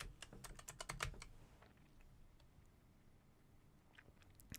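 Quick bursts of computer keyboard typing open the clip, crisp close key clacks in a rapid run, then a few scattered faint taps over a quiet background.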